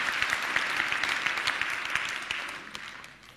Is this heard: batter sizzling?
no